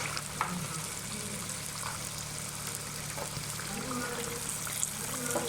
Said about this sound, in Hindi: अब हम इसके अंदर ऐड करेंगे कीमा।